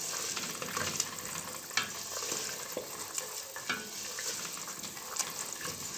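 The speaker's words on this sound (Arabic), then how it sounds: "وهنضيف كده السوداني، كله يتقلب مع بعضه ياخد تحميصه حلوه" Peanuts dry-roasting in a pan while being stirred continuously, a busy rustling, rattling sizzle with frequent scraping strokes, close and steady, with no voices.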